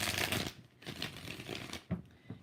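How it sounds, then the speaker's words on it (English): Tarot cards are shuffled repeatedly in quick, papery riffles and slides, close and fairly soft, with short pauses and a few firmer taps between passes. "5 shuffles."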